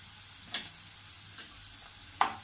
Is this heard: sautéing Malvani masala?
yes